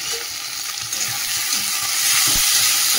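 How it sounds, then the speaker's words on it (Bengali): Garlic and onion sizzle and crackle steadily in a hot pan of oil, loud and close, with a little stirring scrape near the end. "রসুন পেঁয়াজটা একটু ভেজে নিই"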